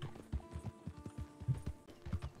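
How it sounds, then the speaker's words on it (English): Horse hooves clip-clop in a steady trotting rhythm while riding in Red Dead Redemption 2, close and clear over a faint hum of game ambience, with no talking. "It's a lot of horse riding this episode."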